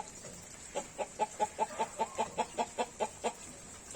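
A rooster kept in a pen with a hen lets out a steady run of about a dozen evenly spaced, clipped clucking calls, moderately close and alone against a faint background hiss.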